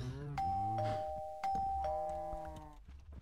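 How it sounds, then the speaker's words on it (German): A cow emergency bell in Minecraft rings as a bright doorbell-like chime, with a few clear tonal strikes over about three seconds against a busy game background. "Das ist die Notschelle, wenn die Kühe einen medizinischen Notfall haben"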